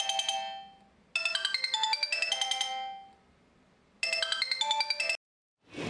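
A mobile phone ringtone plays a bright melodic tune in two loud bursts with a brief pause between, then cuts off.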